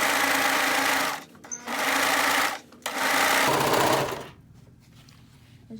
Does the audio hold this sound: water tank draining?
no